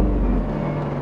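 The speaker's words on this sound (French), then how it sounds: "L'accélération avec les 814 chevaux et le bruit du V12, c'est vraiment une voiture à sensation." A new Lamborghini Countach's 814-horsepower V12 engine pulls hard from close by, a loud, dense, steady roar with a strong low tone held through the brief moment.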